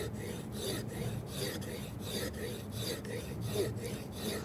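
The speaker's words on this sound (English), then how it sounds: "On this side, I'll take about a dozen strokes, wipe it off, just evaluate the edge" A chisel is stroked back and forth on the 1200 grit side of a diamond sharpening stone. About a dozen even, rhythmic rasping strokes sound close and soft, with no speech.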